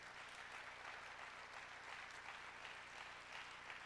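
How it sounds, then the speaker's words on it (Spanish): A church congregation applauds a preacher's sermon line with a steady, fairly distant wash of clapping under a low hum, continuous and even from start to finish. "No sé si escuchaste esto por el aplauso"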